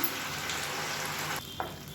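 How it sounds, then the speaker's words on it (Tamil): Ground masala paste sautés in hot oil in a pan, a soft steady sizzle heard close with a brief stir or scrape near the end. "இப்போ இது வந்து எண்ணெயில் கொஞ்சம் நல்லா வதக்கி விட்டுக்கலாம்"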